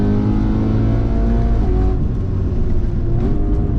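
A loud supercharged BMW M3 E92 engine drones and revs steadily close by, with a gruff, throaty tone that dips slightly partway through.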